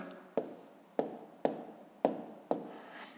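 Hand writing numbers on paper during a 5th-grade math exercise, five sharp pen strokes or taps at roughly even half-second intervals with scratchy tails, close and fairly loud, no speech.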